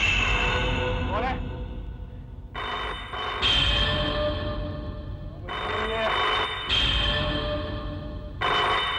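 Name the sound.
telephone ringing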